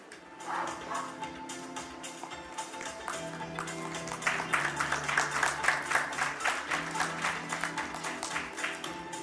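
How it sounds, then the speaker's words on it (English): Sustained applause from an audience, steady clapping throughout that swells louder in the second half, with faint background tones underneath. "Let's not stop clapping."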